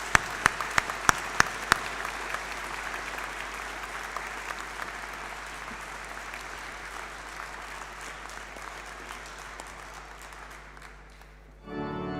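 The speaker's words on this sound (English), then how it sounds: "Can I suggest that we all give each other a huge round of applause?" A graduation audience at a University of Chester convocation in a cathedral breaks into sustained applause, a few sharp claps leading into a dense, steady wash of clapping that fills the hall for about twelve seconds before abruptly cutting off.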